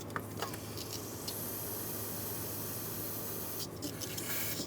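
Brake parts cleaner sprayed onto the injector bases of an intake manifold on a 5.7L V8 Dodge Ram 2500, a faint continuous hiss with a few brief louder bursts.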